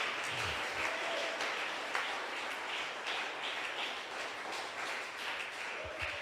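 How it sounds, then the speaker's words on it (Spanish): A church congregation applauds steadily, a dense wash of clapping sustained throughout at moderate distance, with no voices rising above it. "Alguien que aplauda y dé gloria."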